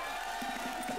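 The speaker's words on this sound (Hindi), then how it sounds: "जोरदार तालियां" Studio audience at a Hindi comedy TV show cheering and clapping, a steady roar of crowd noise with a few rhythmic claps showing through in the second half, brief and fairly loud.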